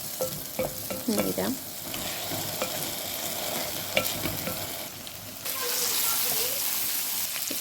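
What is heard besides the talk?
rice and lentils frying with onion and garlic for khichuri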